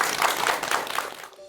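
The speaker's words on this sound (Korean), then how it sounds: "큰 박수 부탁드립니다." An audience applauds to welcome a lecturer on Korean medicine at an indoor talk, a dense burst of clapping that holds steady and then fades out within a second and a half.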